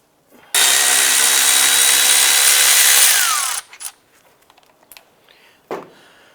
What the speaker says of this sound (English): We're going to use a 15mm socket and a breaker bar for some additional leverage to loosen these.